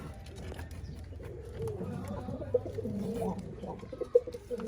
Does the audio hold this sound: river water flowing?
no